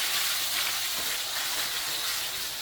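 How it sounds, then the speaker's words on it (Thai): Pork bone pieces frying in oil over medium-low heat, a loud continuous hissing sizzle close up, steady throughout with no voices. "เอาที่โครงหมูของเราลงไปทอดได้เลย"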